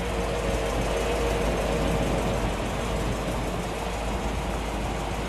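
A 1955 Chevrolet Bel Air convertible engine runs at a steady idle, a continuous close, loud rumble with a dense mechanical churn and no talking.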